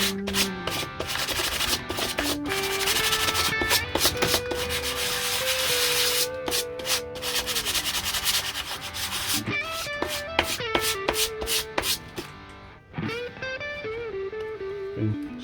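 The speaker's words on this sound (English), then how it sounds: "And I left this sort of beveled edge here, so I'll get my sandpaper." Sandpaper rubbing along a beveled edge of styrene plastic, a loud close rasping scrape in long steady strokes, tapering off near the end.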